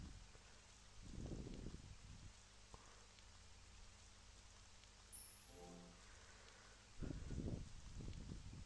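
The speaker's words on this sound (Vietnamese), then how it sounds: "Bên ngoài đã bớt mưa hơn." Steady rain falls outside in a horror RPG, a soft continuous hiss throughout with bursts of heavier patter near the start and end.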